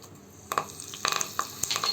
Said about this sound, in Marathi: मोहरी चांगली तडतडू दे